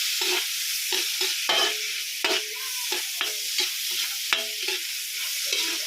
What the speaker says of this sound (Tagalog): Inunaw na natin yung ating margarine. Ilalagay na natin yung ating mga ricado.